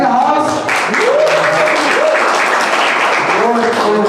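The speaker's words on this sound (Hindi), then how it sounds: "चलो जोरदार तालियों के साथ स्वागत करते हैं यश भाई का." A live audience at a poetry and rap open-mic event applauds to welcome a performer, steady loud clapping and cheering close up, with a voice talking over it.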